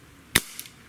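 One crisp, sharp crack from a Webley MKVI 4.5 mm CO2 air pistol fired outdoors on a warm day, close and short, followed by a faint tick of impact a moment later.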